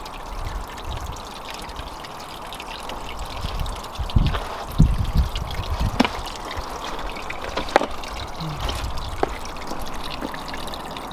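Water pours over a DIY 12-inch aquascape spillway into a pond, a steady close trickle and splash that swells in a few louder surges midway.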